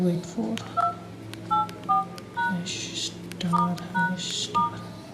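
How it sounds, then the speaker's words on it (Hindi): Keypad tones from a Nokia 8110 4G phone as a service code is dialed, a quick irregular series of short distinct beeps, close and clear, over a low background hum. "आपको कमांड देनी पड़ेगी, कोड डालना पड़ेगा *#33284 *#*"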